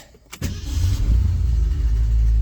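A 1969 Ford Mustang, one owner with 59K original miles after sitting for over 30 years, cranks briefly and then fires up, settling into a loud, steady idle close by.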